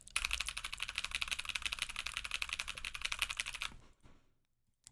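Rapid, dense typing on a keyboard fitted with Kiboom Taro Cream Milk tactile switches, close and steady for nearly four seconds, then stopping abruptly into near silence.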